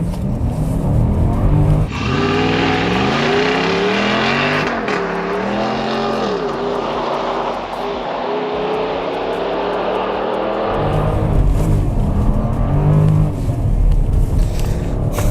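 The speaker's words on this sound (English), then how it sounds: "All right, I'm gonna test the acceleration." A 2022 Jeep Grand Wagoneer engine roars loud and close under hard acceleration in freezing winter cold, its pitch climbing through several gear changes with brief dips between shifts.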